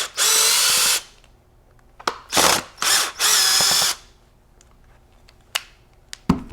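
Several short bursts of a power drill whirring as it removes screws from a Benelli Montefeltro shotgun, spinning up and stopping in quick succession, with small clicks and clatter in between.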